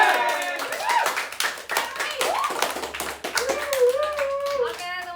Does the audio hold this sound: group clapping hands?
yes